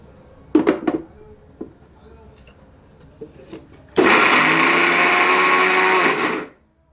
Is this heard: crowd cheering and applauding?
no